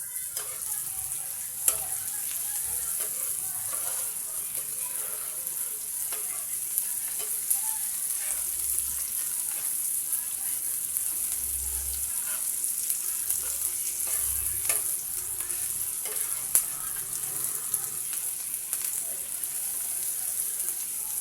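Fish pieces frying and being stirred in a pan, a faint continuous sizzle with occasional soft scrapes and clinks.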